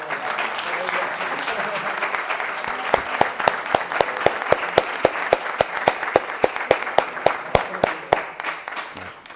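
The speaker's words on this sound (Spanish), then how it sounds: "creo que merece un aplauso por colaborar" Audience applause at a mystery-themed talk, a steady wash of many hands with sharp individual claps ringing out on top, sustained throughout and tapering slightly at the end.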